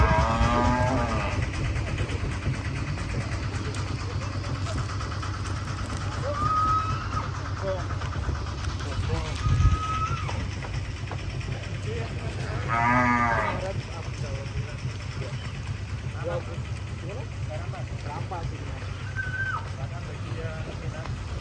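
A large sacrificial-breed cow on Akbar Farm gives several loud, drawn-out moos over a constant engine-like rumble, while people talk nearby throughout.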